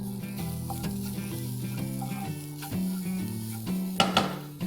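Spiced green pea kachori filling, seasoned with amchur, is tossed in a pan for halwai-style khasta kachori, giving a steady close sizzle with soft scraping and a few sharper clinks of utensil on metal near the end.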